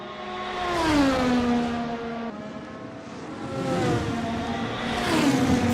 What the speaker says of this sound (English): Virtual racing cars